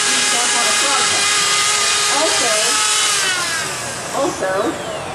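A handheld power carving tool, not mounted on an angle grinder, grinds steadily against a wooden carving, a loud continuous whine with rough wood contact that eases slightly near the end, while a person talks over it.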